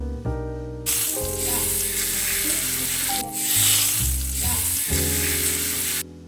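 Steak sears loudly in a pan with butter, olive oil, thyme and shallot, a constant close sizzle broken by brief pauses and light rattles, with no talking.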